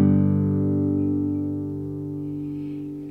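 A single chord on a custom Pegasus guitar rings out with long, smooth sustain, its tone slowly fading over a few seconds with no other sounds.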